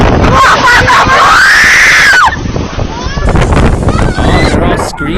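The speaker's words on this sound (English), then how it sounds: "Oh, they're all screaming in Russian." People shout and scream at a tornado in Russia amid gusting wind noise on the microphone, loud frantic voices with a rising wail early on, then scattered cries and rumble.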